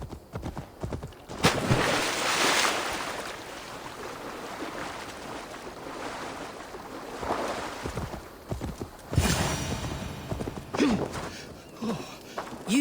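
Horse hooves plod in the Assassin's Creed Valhalla video game, a slow uneven clip-clop in bursts mixed with rustling game ambience, with no talking heard.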